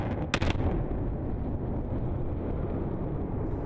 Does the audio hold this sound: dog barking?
no